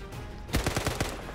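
Rapid burst of about six gunshots fired in a Minecraft war map, sharp close cracks in quick succession after a short quiet lead-in.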